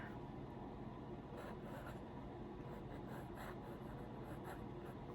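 A Kakuno fountain pen with a fine nib scratches faintly across paper in short strokes, a quiet papery scribble set against low background hum.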